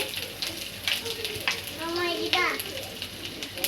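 Chopped ginger dropped into hot oil in a wok, a short bubbling sizzle with light clatter, heard under a voice talking.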